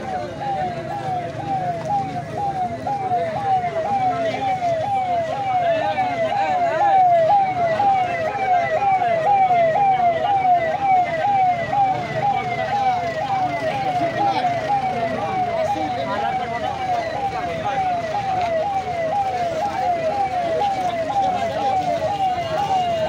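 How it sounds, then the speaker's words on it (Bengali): A wailing ambulance siren sweeps up and down steadily over traffic noise, holding loud and close throughout, on a road blocked by protesters. "অ্যাম্বুলেন্সটা চলে যায়।"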